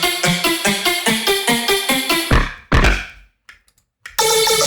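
Heavy electronic bass from pitched-down lower vocals, played dry without an effects rack: a pulsing rhythmic run of thick, buzzing notes that breaks into a few scattered hits and silence before a sustained tone returns.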